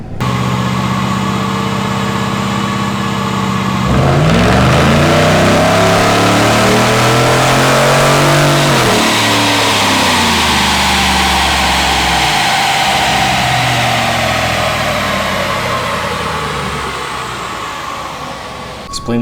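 A stock 2016 Chevrolet Silverado single cab roars on a dyno, its engine climbing through loud sweeping revs under load before easing down again, close and dominant throughout.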